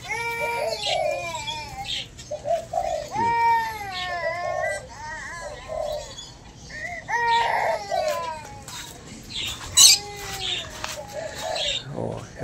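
Spotted doves in a cage give repeated soft, drawn-out coos and calls, close by, with a few brief higher bird notes mixed in and no talk over them.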